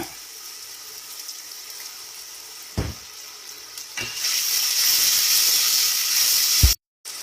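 Chopped onions sautéing in a pan for Saudi kabsa, a steady hiss that swells into a louder, denser sizzle partway through after a couple of soft knocks, then cuts out abruptly near the end.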